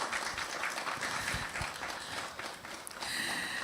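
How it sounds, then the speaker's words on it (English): Audience applause at a panel discussion on combating misinformation: a steady, dense wash of many hands clapping that runs throughout at moderate volume. "Please, a round of applause for her."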